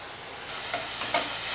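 Milk poured into sautéed grated carrots in a pan for carrot halwa, a soft steady hiss with a few brief sizzling bursts, close and fairly quiet, with no talking.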